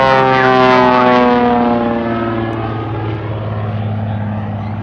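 A loud jet engine on a biplane drones overhead at an air show, its tone sliding slowly downward as it passes by, steady and powerful throughout.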